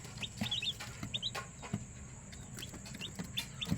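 Month-old chicks clucking and peeping in soft short bursts scattered over a low background hum, fairly faint and close, with no talking.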